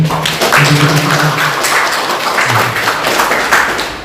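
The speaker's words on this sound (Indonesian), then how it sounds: "Tepuk tangan semuanya." Teachers from SMK Satya Praja in Pemalang applaud at a school event, clapping steadily for several seconds with a few voices briefly heard under it.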